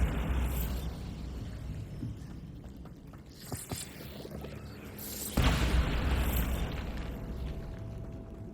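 Bombarda blasting spell explosion in Hogwarts Legacy, a sudden loud broadband boom about midway with a dense rumbling tail that decays slowly, over steady game ambience and creaking mechanisms.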